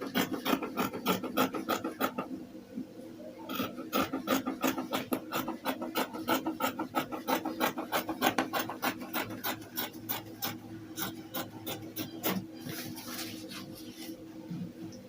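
Scissors trimming a fabric shirt pattern piece, close and steady, with a long run of crisp rhythmic snips and rasping cuts, several brief pauses between runs.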